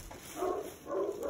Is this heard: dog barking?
yes